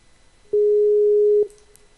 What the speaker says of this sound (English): Might hear a loud ringing. It's gonna be Skype.